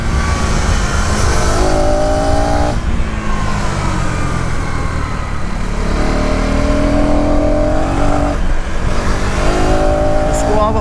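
A 2026 KTM Duke 250 motorcycle's engine is heard while riding, loud and close, revving up and down with rising pitch sweeps as gears shift.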